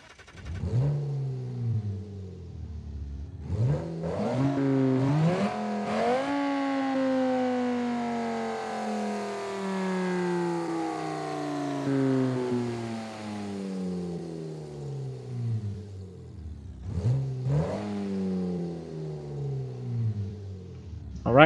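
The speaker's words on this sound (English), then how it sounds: "the massive V10 King SUV, of course, with the V10 King engine in the front" The V10 King engine in an SUV in BeamNG.drive revs repeatedly, climbing sharply to a long high wail that slowly falls away, then rises again in later bursts, with a whining tone throughout.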